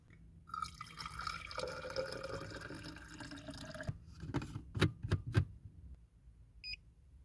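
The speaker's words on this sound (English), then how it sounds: "Now I'm just gonna heat up some water for my cappuccino, my morning cappuccino" Water for a cappuccino pours and trickles into a container to be heated, followed by a few distinct drips and a short electronic beep at the end.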